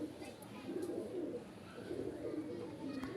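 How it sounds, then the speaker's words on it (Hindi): Pigeons cooing at a home loft during a small gathering, soft repeated low coos with faint background murmur, fairly quiet and close. "ये देखें जी, ये हमारा कबूतर है"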